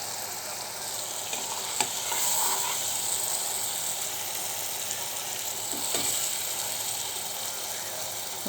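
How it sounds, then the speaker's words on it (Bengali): Spice paste is stir-fried in a pan before small fish are added, producing a loud, steady close-up sizzle with occasional scraping strokes from the stirring spoon. "মশলাটা আর একটু কষুক,"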